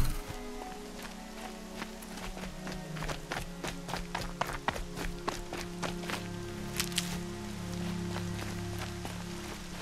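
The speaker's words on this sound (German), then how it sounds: "Oh ja, so schlimm regnet es auch nicht." Rain in the Horizon Zero Dawn video game, a steady patter beneath quick repeated footsteps and taps, with a low hum running throughout.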